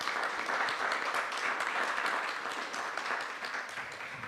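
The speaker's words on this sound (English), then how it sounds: "let's give these guys a round of applause" An audience applauds at an evening startup pitch gathering, a steady wash of many hands clapping at moderate distance that holds for several seconds, then eases slightly.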